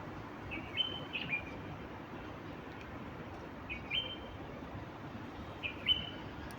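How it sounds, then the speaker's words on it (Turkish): A few brief, faint bird chirps come and go over a steady background hiss. "Kuşlar da günaydın diyor."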